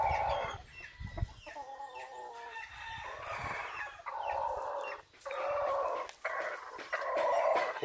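A breeding rooster calls among chickens in a yard, with a run of loud, drawn-out clucking and crowing calls close by, broken by short gaps and a few softer background sounds.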